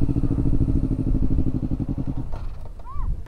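A motorcycle engine runs close by with a loud, steady pulsing idle for about two seconds, then cuts out, leaving faint clatter and a brief high chirp.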